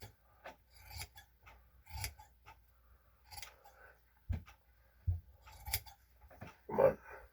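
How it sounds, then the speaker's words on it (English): Scissors cut through kilt cloth in a series of quiet, close snipping and rasping strokes at an uneven pace, with no talking. "let's just keep cutting away"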